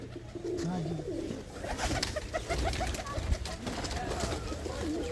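Soft pigeon cooing runs through a home loft of small, well-built fancy pigeons, including red-tailed birds, with low murmuring coos under steady background noise and someone talking nearby.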